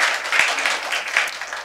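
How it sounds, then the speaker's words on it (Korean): Dense, sustained applause fills a church during a worship service, a congregation clapping together loudly with no talk over it. "박수 올려드립니다."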